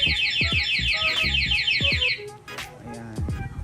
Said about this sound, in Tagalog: makakatawag na po ng pansin sa mga nakapaligid po, no, na nag-a-alarm yung motor